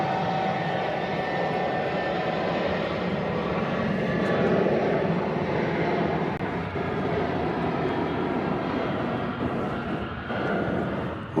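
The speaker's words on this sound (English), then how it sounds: "What a beautiful aircraft." A fixed-wing airplane roars past at Nashville International Airport, a loud, steady, broad engine rumble that holds for around ten seconds without fading, with no talking heard.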